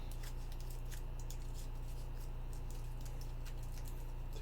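Foil wrapper of a Hershey's Kiss chocolate being peeled and crinkled close up, a steady soft rustle with small sharp crackles over a constant low hum.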